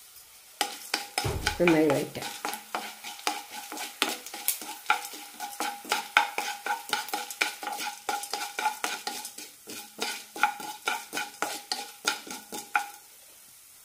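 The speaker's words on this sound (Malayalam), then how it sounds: "ജീരകം പൊട്ടാൻ തുടങ്ങുമ്പോൾ 1 ടീസ്പൂൺ മല്ലി ഇടാം." Cumin and coriander seeds crackling in a hot pan for horse gram curry, with a brief burst of sizzle and then steady stirring: a spoon scraping and tapping the pan in quick, uneven strokes. A short spoken word is heard.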